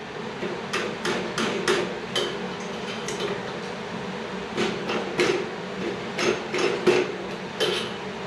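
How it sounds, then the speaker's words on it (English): Light metallic taps from a screwdriver nudging a throttle or timer cable part into place on a 1948 Harley-Davidson WL Flathead 45, coming as a dozen close, sharp strikes in small irregular clusters over a low workshop hum. "So I'm going to tap it along with a screwdriver here just to get it in the rest of the way."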